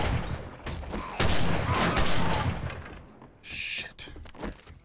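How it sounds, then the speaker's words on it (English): A big gun fires in the zombie survival game 7 Days to Die, loud rapid volleys of shots that are close and dense, then a pause before a few more bursts. "We're gonna have to get the big gun out."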